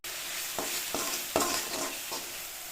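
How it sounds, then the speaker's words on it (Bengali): Food hisses in a hot pan as its water boils off, broken by four or five scraping strokes of a spatula, close and steady with no talking. "নাড়াচাড়া করে জলটা একদম ফুটিয়ে দেবে"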